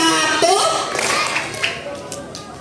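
Seated primary-school students clap briefly on cue during a school Isra' Mi'raj gathering, a scatter of sharp taps and claps in a room, with a voice talking over them.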